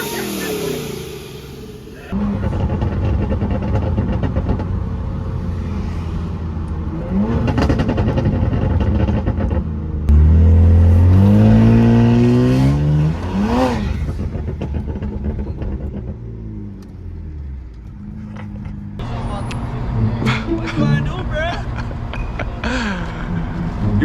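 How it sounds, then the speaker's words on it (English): Built-motor BMW 335i with an N54 engine upgraded to a single turbo revs up close, the engine climbing and rising through a strong sweep midway, while several people talk over it throughout. "Rev it. Rev it."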